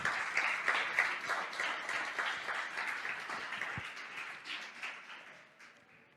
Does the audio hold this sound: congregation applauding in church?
yes